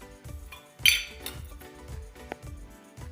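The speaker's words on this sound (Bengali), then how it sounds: "গ্যাসে একটা কড়াই বসিয়ে দিলাম" Metal wok (karahi) set down on a home gas stove, with a series of close clanks and clinks of metal on the burner grate, moderately loud, no talking.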